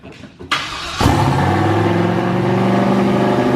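A turbo LS truck engine fitted in a Corvette starts for the first time: a short cranking sputter, then it catches with a loud roar and settles into a rough, steady idle close by.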